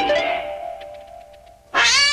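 A cat meows loudly and close, one drawn-out call at the start and a second sharp meow near the end, with a thin steady tone in between.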